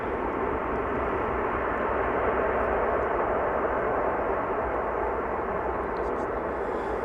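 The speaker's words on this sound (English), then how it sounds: "And a nice gentle touchdown. A little bit of reverse thrust." An airliner touches down at Amsterdam Schiphol Airport and applies reverse thrust, a loud continuous broadband jet roar that holds steady throughout, close and dominant with no other sounds standing out.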